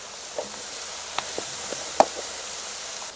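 Finely diced onions, peppers and Italian sausage sizzle softly in a pan, a low steady hiss broken by a few sharp knocks and taps of utensils.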